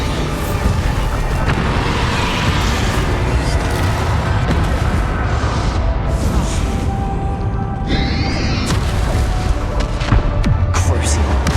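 Bombarda spell blasts boom through a loud, dense battle in the video game Hogwarts Legacy, with explosions layered under constant combat noise and a voice shouting over the action.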